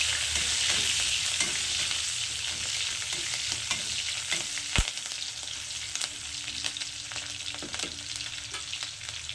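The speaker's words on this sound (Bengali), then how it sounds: "এবার আদা আর লঙ্কাটাকে দিয়ে দিচ্ছি এটাকে একটু ভেজে নেবো" Ginger and green chilies fry in oil in a pan for restaurant-style chilli paneer, giving a continuous bright sizzle with repeated spatula stirs and clicks, close and fairly loud, with no voices.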